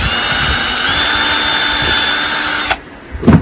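A power drill whines continuously at high speed drilling cedar wood for a picnic table feeder, then stops abruptly, followed by a short clatter and a brief burst of the drill again.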